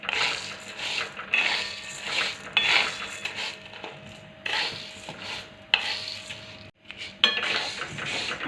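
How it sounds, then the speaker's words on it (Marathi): Whole mung beans dry-roasting in a pan, stirred steadily with scraping, rattling strokes of a spoon against the metal that come in uneven bursts with short pauses, close by and with no talking. "आता आपल्याला हे मुगाचे एकसारखे हलवते ना मुगाला छान डाक पडेपर्यंत भाजून घ्यायचे आहे"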